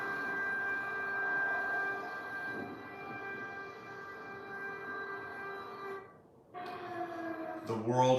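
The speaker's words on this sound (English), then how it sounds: "Air raid sirens." Air raid sirens sounding over Kyiv, a steady multi-tone wail heard from afar that briefly drops away before rising again, with a closer noise breaking in at the very end.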